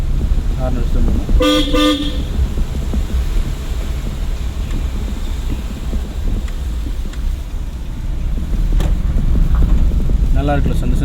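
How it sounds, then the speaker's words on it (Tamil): Car horn toots twice in quick succession early on, then again near the end, during a driving lesson, over steady road and engine noise with people talking. "ஹார்ன் அடிச்சு போகணும்."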